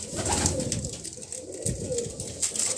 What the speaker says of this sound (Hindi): पर देखे, काफ़ी लंबा चौड़ा कबूतर, क्या बात है।